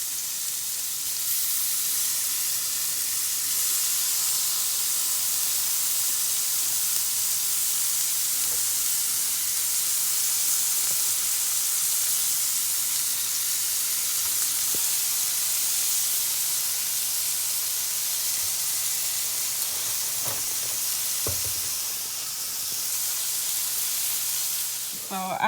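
Shrimp sizzle in a hot pan with a steady, hissing fry that runs on quietly for the whole stretch, with a few faint clicks and knocks near the end.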